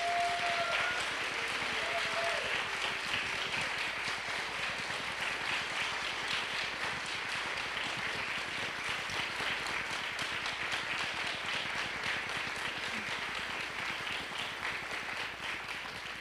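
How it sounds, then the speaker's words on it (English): A seated audience gives facilitators a round of applause at a talk, fairly soft, even clapping that carries on steadily for many seconds, with a faint voice near the start. "if you could give these folks a round of applause"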